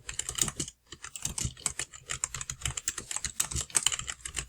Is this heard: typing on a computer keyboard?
yes